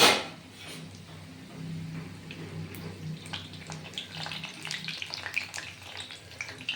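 Green chilli chops frying in oil over a low flame, a soft continuous bubbling sizzle with crackling pops, steady and close.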